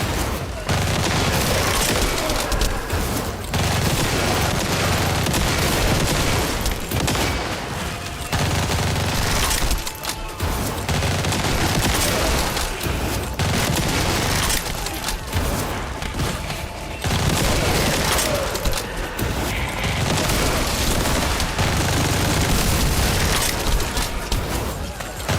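Hip-fired gunfire in the video game The Division 2: sustained, dense bursts of shots with booms layered over loud gameplay music, continuing almost without pause.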